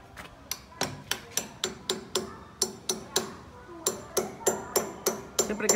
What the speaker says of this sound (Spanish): a la hora de martillar los vidrios acá en estas casas son muy delgados, son 3 milímetros